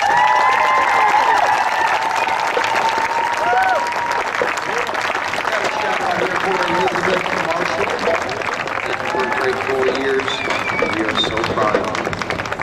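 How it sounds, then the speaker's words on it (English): A crowd claps and cheers steadily, loud at first and then settling into sustained applause. "let's give another round of applause"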